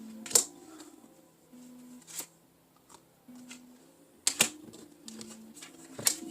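Lenormand cards pulled from a deck during a pick-a-card reading, quiet close clicks and flicks in a few short bursts with soft shuffling between them in a still room.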